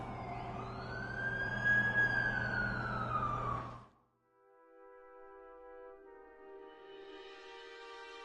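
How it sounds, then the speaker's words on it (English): Ambulance siren in the video game The Amazing Spider-Man 2, a loud wailing sweep that rises and falls and then cuts off abruptly, followed by a quieter, steady tonal hum that fades back in. "That's the ambulance I called."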